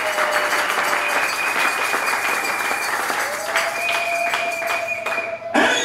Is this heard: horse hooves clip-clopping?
no